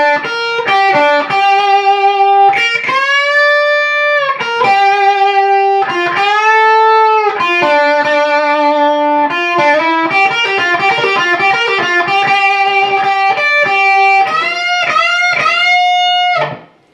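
A distorted electric guitar plays a blues lick, with loud sustained bent notes and quick bursts of runs, close and alone for about sixteen seconds before stopping.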